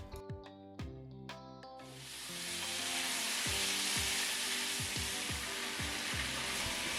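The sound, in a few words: pork sizzling in ginger sauce in a pan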